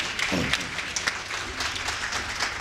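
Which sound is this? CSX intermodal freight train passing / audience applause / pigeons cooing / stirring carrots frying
audience applause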